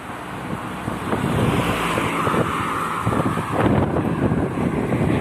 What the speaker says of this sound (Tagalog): Mahangin lang, mahangin